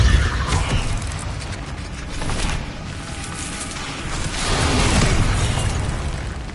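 Confringo fire spell blasts in Hogwarts Legacy combat, a run of loud booming bursts that swell again near the end over a dense rumbling battle din, with no talking.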